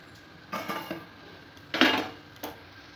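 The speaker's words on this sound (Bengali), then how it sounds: "এবার জলটা ঝরিয়ে নেব।" Water drained off boiled fish, with short clattering bursts of a metal pot or strainer knocking and splashing, in three separate close bursts against a quiet kitchen background.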